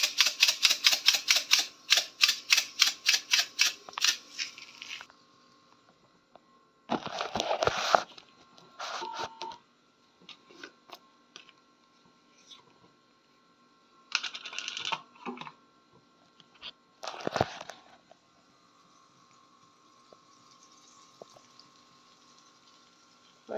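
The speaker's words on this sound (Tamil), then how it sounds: "எண்ணெய் நல்லா காஞ்சிருச்சு. அதில் கொஞ்சமாக கடுகு போட்டுக்கலாம். கடுகு பொரியட்டும்." Mustard seeds splutter and pop in hot oil while making Indian gooseberry pickle, starting with a rapid burst of crackling sizzles, then quieter scattered bursts of popping over a low background hiss.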